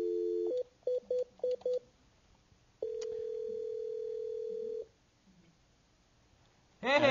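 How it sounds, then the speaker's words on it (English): A 9951 video phone on speaker places a call: a dial tone, then a quick run of four keypad beeps, a long steady ringback tone, a stretch of quiet, and a sudden loud answering burst at the end. "So let's call Michael and Aris back right now"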